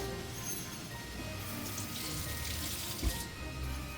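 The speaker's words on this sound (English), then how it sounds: "And at this point, I'll turn off the water" A kitchen tap runs in a steady, full hiss of pouring water during the making of a Jamaican sorrel drink, with a single soft knock near the end.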